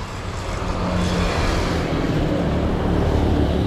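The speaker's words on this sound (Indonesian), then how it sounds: "Pinggir jalan ini, tuh. Mobil, truk" Steady roadside traffic of cars and trucks streaming past, a loud continuous rumble and whoosh of engines and tyres with no pauses, fairly close and with no voices.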